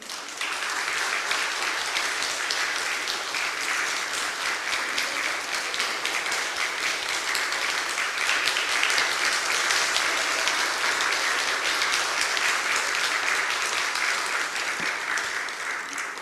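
A church congregation gives long, sustained applause welcoming missionary Mun Chang-seon as he walks up, a dense, even wash of many hands clapping at steady loudness with no talk over it.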